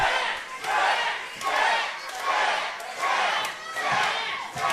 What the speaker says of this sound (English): This crowd calling for a smash.